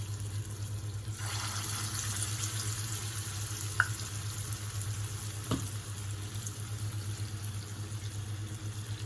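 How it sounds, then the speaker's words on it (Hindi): Pumpkin kofta balls fry in oil over low heat, a steady soft sizzle with a low hum underneath and a couple of faint clinks, close and even throughout, no voices. "मैं इस तरह से कोफ्ता बना के तेल में डाल दी हूँ"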